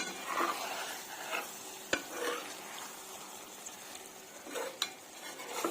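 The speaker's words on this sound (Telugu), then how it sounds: "ఒకసారి కలుపుకుందామండి. చిన్నగా కలుపుకోవాలి, లేదంటే అవి చెదిరిపోతాయి." Stuffed brinjal curry is gently stirred in a pan over a soft simmering sizzle, with light spoon scrapes and a couple of sharp metallic taps, quiet and close.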